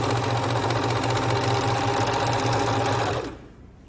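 A Tugi MK1881 four-thread overlock sewing machine runs at a steady, loud, even whir with a rapid stitching rhythm, then stops abruptly near the end, leaving only faint room noise.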